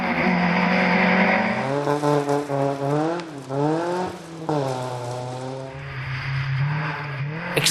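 A Vauxhall Corsa rally car runs a slippery stage in the 2013 REIS 1400 Championship. The engine is loud and close, rising and falling through repeated revs and gear changes with a rough, straining tone.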